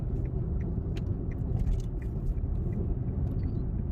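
A car climbs a steep road through Wadi Jinn near Madinah, gathering speed. A steady, close engine and road rumble runs throughout with only faint high rattles above it.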